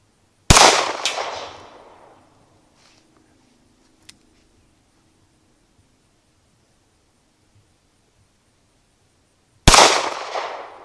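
Two sharp, loud gunshots from a Smith & Wesson 637 snub-nose revolver, spaced about nine seconds apart, each cracking close and ringing off, with near silence between them.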